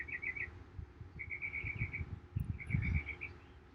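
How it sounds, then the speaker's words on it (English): Birds singing outdoors, repeated short bursts of bright chirping trills at a moderate distance, with soft low rustling and background noise beneath. "listening to these birds"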